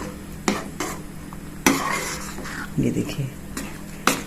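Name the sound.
stirring matar paneer gravy in a pan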